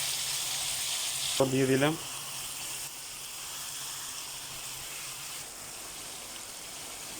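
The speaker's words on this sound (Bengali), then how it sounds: "দিয়ে দিলাম চিকেনগুলো একটু তেলের উপরে ফ্রাই করে দিই" Chicken pieces fry in oil in a pan with chopped onion, giving a steady close sizzle throughout, with a brief voice and a short clatter early on.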